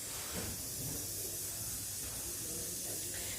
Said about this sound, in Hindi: यहाँ पे चने जो हैं वो बॉईल हो रहे हैं।